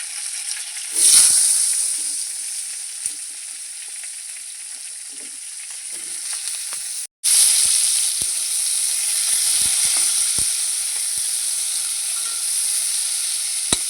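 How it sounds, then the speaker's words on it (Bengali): Pointed gourd fries in hot oil, a loud continuous sizzle close by, with occasional utensil knocks and a brief break before the hissing resumes just as strongly. "এখানে পটলের তরকারি করার জন্য পটলটাকে একটু ভালো করে ভেজে নেব"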